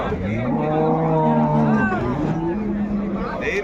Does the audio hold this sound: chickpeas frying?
no